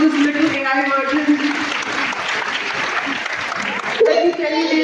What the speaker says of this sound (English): Can we please give a huge round of applause to this little AI version?